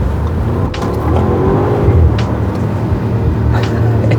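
A 2023 Bentley Bentayga S engine in sport mode hums with a loud, steady drone from inside the cabin, swelling slightly mid-way, with a few brief clicks over the low rumble.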